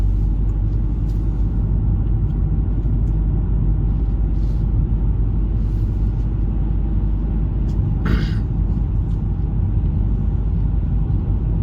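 Interior of a car driving at about 80 km/h on the road from Esch-sur-Alzette, Luxembourg, into France, with a steady loud engine and road rumble throughout and one brief higher whoosh midway.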